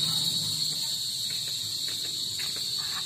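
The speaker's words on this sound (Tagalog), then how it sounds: "Naririnig nyo ba yung mga kuliglig?" Steady high-pitched cricket chirping fills the background, a continuous dense insect drone with faint soft rustles underneath, no voices.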